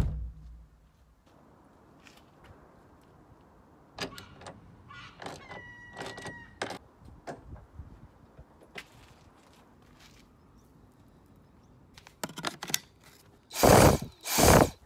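A ratchet clicks in short bursts while tightening a strut brace on a Ford Cosworth car, against a quiet background, followed by two loud whooshing bursts at the end.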